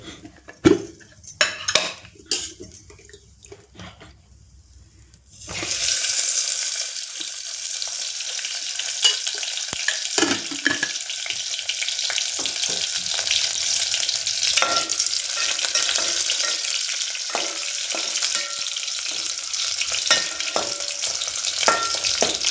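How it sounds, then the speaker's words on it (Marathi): Sliced onion frying in oil, first a few seconds of quieter clinks and stirring, then a sudden loud, steady sizzle that continues with occasional scrapes of stirring. "उभा चिरलेला कांदा घातला आहे मी आणि हा भाजून घेऊया. कांदा भाजत आला, तेल घालूया."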